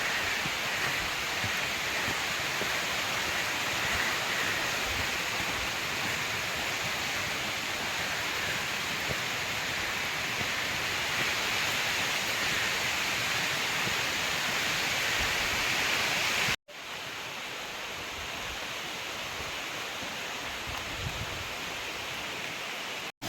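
Rain falls on a forest path near Wagbil and the Dhangar waterfall by Badlapur, a dense and steady broadband wash that briefly cuts out near the end before resuming slightly quieter, with no voices.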